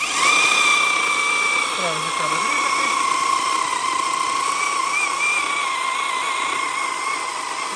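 A cordless battery-powered saw runs steadily with a sustained high whining motor tone, loud and close throughout, with a brief lower dip while cutting.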